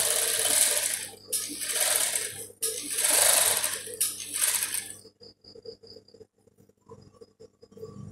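Close sewing machine stitches a fabric hat up to the elastic edge, running in two loud bursts of rapid whirring separated by short pauses, then stopping into quiet faint clicks and handling noises.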